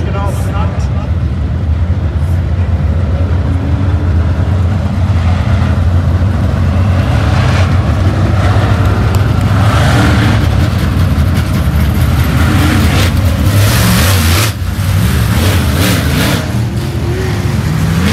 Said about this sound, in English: Feature race time for the 604 Crate Late Model.